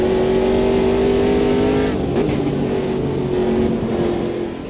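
Race car engine in the Automobilista 2 sim racing game, a loud sustained drone with steady harmonic tones that shift slightly in pitch as the car pushes for an overtake, continuous throughout with no talk.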